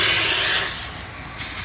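Air hissing from a pulled-out hose on a Peterbilt 389 truck, a loud close hiss that eases off, briefly dips, then surges again.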